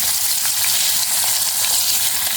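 Pointed gourd (potol) frying on low heat, a dense, steady, hissing sizzle that stays even and close throughout with no voices.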